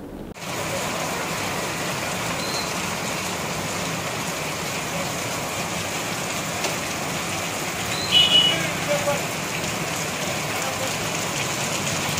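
Sudden rain in an outdoor town street, a steady, dense hiss of falling rain that runs continuously, with a faint engine-like rise partway through.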